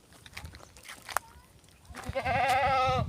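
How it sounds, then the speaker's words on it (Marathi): A goat and her young kids bleat on a farm, with a few soft sounds early on, a sharp knock, then a loud wavering bleat near the end, close by. "हे करडं जे आहेत ना ह्या शेळीचे आहेत"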